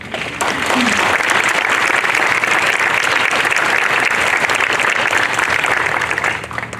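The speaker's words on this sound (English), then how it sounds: "Please give those members a round of applause to congratulate them." An audience at a National Honor Society induction ceremony gives sustained, loud applause for newly inducted members, dense clapping that swells in and holds steady for several seconds.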